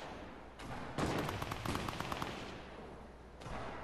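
A burst of rapid gunfire in a squad shooter video game, a fast volley of sharp shots over a dense, noisy background, heard without any talking.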